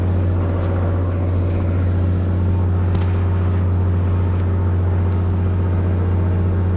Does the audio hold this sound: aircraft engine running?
yes